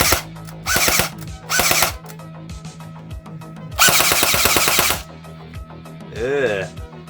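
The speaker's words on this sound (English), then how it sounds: "So how does a standard VFC MP5 sound? I've yet to fire this" A VFC MP5 airsoft gun fires several short full-auto bursts on a bench, each a loud rapid mechanical rattle with a buzzing motor whine, separated by brief pauses.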